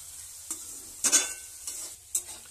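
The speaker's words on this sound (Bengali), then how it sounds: "পরিমাণ মতো নুন দিয়ে ভেজে নিচ্ছি এটাকে" Food frying with salt in a pan while making fried rice at home, soft sizzling with a few scraping stirs of the utensil against the pan, close and fairly quiet.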